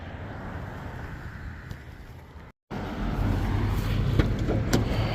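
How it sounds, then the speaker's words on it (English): A car pulls away on a test drive after repair work, a steady low engine and road rumble building after a brief dropout, with faint wind and cabin noise throughout. "We'll take it for a test drive and we'll be good to go."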